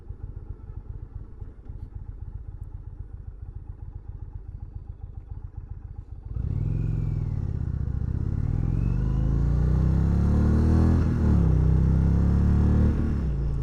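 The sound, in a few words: Indian Roadmaster Dark Horse motorcycle engine while riding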